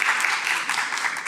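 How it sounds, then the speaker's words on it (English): Audience applause after a lecture introduction, dense steady clapping from a crowd lasting the whole moment, fairly loud and continuous with no voices on top. "So let's give him one applause."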